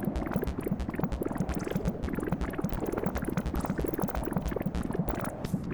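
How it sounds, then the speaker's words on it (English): Bubbles are blown into a tunnel in the video game Animal Well, giving a steady, soft bubbling and gurgling like boiling liquid. The dense, even fizz runs without a break and no one talks. "You want to blow lots of bubbles into the tunnel."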